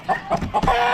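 A rooster at an Amish animal auction clucks in quick short bursts, four or so in about a second, close and loud.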